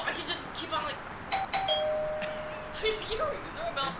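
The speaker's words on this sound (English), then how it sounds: "Why is there a doorbell in the bathroom?" Doorbell chimes in the Roblox game Ro-Citizens, a clear bright ding-dong tone ringing out near the middle under steady talking from players.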